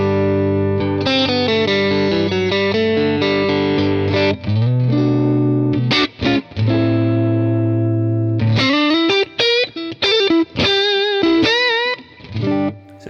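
Electric guitar on its neck pickup through a Fender Custom Shop amp, with warm, slightly overdriven tone, playing chords then single-note lines with bends, loud and sustained, no talking.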